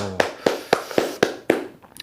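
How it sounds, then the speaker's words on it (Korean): University students in a classroom clap in unison, six sharp, evenly spaced claps in a quick steady rhythm, close and fairly loud. "네, 박수."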